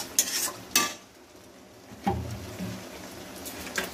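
Fish egg kofta curry is stirred in a pan, with sharp scraping clinks of a spatula against metal at the start, followed by soft wet stirring and a quiet simmer with a few more taps.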